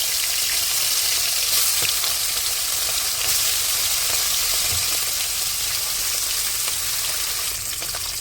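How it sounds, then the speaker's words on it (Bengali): Koi fish fry in oil in a wok, a dense, continuous hiss of spitting oil with small crackles throughout, close and steady at an even level with no voices. "কই মাছগুলো বেশি ভাজবো না, হালকা করে ভেজে এপিট ওপিট করে নামিয়ে নেব"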